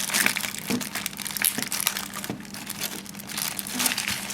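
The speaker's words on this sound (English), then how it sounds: "Inside this other plastic bag" Close, continuous crinkling and crumpling of plastic, with irregular sharp rustles and a few louder crunches, no voices.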